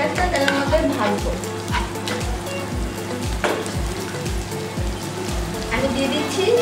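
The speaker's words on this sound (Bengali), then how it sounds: "আমি কিছুক্ষণ রসুন ও পেঁয়াজটা তেলের মধ্যে ভাজবো।" Chopped onion and garlic fry in oil in a pan, a busy crackling sizzle with repeated scraping stirs, steady and fairly loud throughout over a low background hum.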